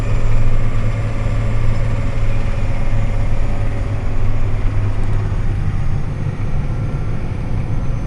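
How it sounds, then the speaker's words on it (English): A tractor engine runs steadily and loudly throughout, a continuous low droning hum with a strong low rumble and no pauses, as it drives out across a rough field. "Do you like this tractor?"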